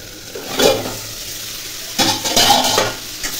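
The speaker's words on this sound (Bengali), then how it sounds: "আর দিকে কুমড়ো ভাজা বসিয়েছি" Pumpkin slices frying in a pan hiss and sizzle steadily up close, with louder bursts as utensils scrape and clink against the pan a few times.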